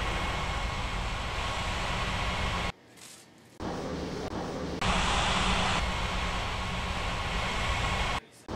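Jet airliner on landing approach to runway 18 at a regional airport in the Rocky Mountains, a steady loud broadband engine roar with a brief drop partway through before the noise swells back, no voices.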